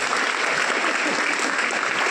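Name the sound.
applause welcoming the lighting of a lamp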